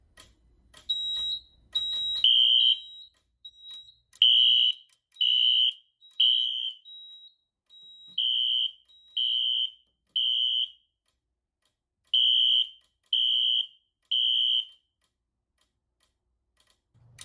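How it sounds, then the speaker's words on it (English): A Gamewell Identiflex 610 fire alarm system sounds from an activated detector in a three-pulse temporal pattern of loud high beeps, repeating in groups with short pauses, preceded by a few quick ticks and chirps. "The detector is alarming."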